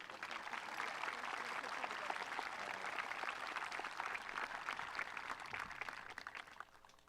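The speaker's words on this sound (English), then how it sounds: "Let's give them both a round of applause." Steady applause from a sizable crowd at a high school graduation ceremony, a dense even clatter of many hands clapping that holds throughout and tapers slightly at the end.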